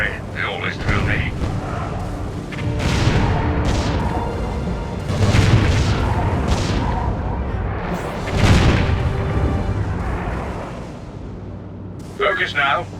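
A cannon tower in the Defense Grid: The Awakening tower-defense game fires heavy booming shots, several deep blasts rolling under a voice that speaks throughout.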